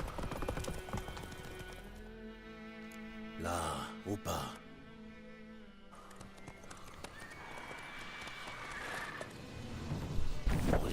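A horse's hooves clip-clop at a gallop in The Witcher 3, with a snorting whinny partway through, under game music and someone speaking French.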